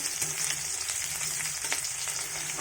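Chopped onions frying in a pan for a spicy fish curry, a constant close sizzle broken by short scraping strokes as they are stirred, with no talking.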